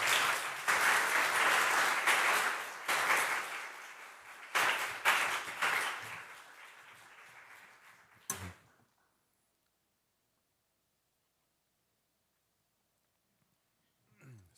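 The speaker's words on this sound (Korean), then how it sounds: "우리 신시내티 능력 침례교회 큰 박수로 우리 목사님 환영하겠습니다" A church congregation claps loudly to welcome the pastor, with dense applause for about eight seconds before it stops abruptly into near silence.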